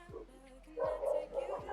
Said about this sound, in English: The dogs are at it again.